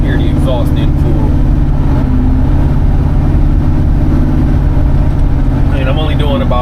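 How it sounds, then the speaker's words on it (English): A 1968 Chevrolet C10 pickup with an LS engine swap rumbles steadily from its exhaust while cruising at low speed with the windows up, a continuous deep drone throughout, with faint cabin noise over it. "I'm sure you can hear the exhaust in full."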